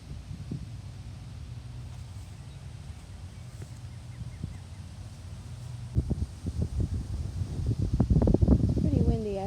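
Wind gusting into a microphone outdoors at Hazelwood Cemetery, a low steady rumble that swells and buffets harder toward the end, with faint rustling behind it.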